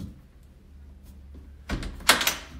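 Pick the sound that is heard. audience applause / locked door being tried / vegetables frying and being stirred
locked door being tried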